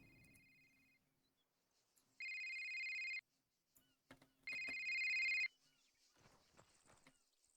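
In the Arma 3 ACRE2 game, a tank crew intercom phone rings in two electronic bursts, each about a second long with a bright warbling tone, separated by a short gap, over quiet background clicks and faint noise.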